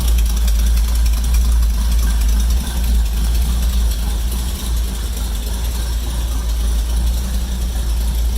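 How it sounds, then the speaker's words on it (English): A 1932 Chevrolet street rod idles steadily just after starting, a deep, continuous low rumble with even loudness and no voices over it. "Starts right up. Like I say, the engine runs awesome."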